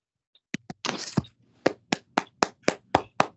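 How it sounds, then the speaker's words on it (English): Scattered handclaps follow a talk on Robert Burns, starting with a few sharp, close claps and a brief rustle, then settling into a slow, evenly spaced run of about eight single loud claps. "put your hands together and just give him a clap"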